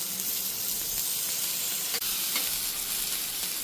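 Fish pieces fry in a pan for a fish curry, giving a steady close sizzle and hiss throughout, with one brief clack near the middle as the pieces are turned.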